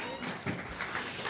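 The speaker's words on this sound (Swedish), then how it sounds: "En applåd tycker jag bara för det" An audience applauds at a lecture at Blå Stället, with a brief burst of dense clapping that stays fairly even and moderately loud.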